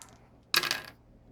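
Dice clatter briefly on a tabletop during an X-Wing miniatures game, a single quick rattle lasting about half a second in a quiet room.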